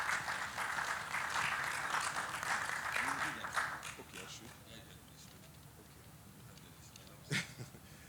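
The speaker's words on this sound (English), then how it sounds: "A round of applause for him, please." A conference audience applauds the incoming chairman of a regulatory panel discussion, moderately loud clapping that lasts a few seconds and then fades into quieter room sound with a brief thump near the end.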